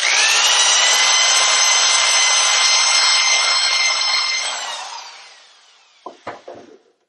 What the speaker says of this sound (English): Now we're going to run a dingle ball hone through there to clear the rust and the crud out.